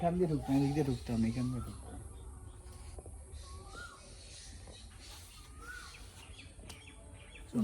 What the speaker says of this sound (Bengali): এখানে কি সুন্দর কোকিলের ডাক শোনা যাচ্ছে